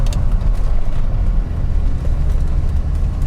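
A 1990 Chevrolet Corvette ZR1 under throttle gives a steady, heavy low rumble that drones on without a break, heard up close with no voices over it.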